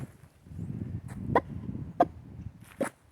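A pet rooster clucking indoors at close range, giving a few short, sharp clucks spaced about a second apart over faint background rustle.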